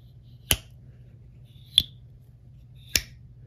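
A Rough Ryder Reserve 040 Ghost Fish folding knife blade locking open, heard as three sharp, isolated clicks spaced about a second apart against a quiet background.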